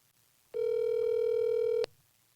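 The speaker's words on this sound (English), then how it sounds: "I'm going to call Mike on my phone." A steady telephone dial tone sounds on a phone line being used to call someone, starting suddenly, holding one continuous pitch for about a second and a half, then cutting off abruptly; a quiet low hum sits underneath.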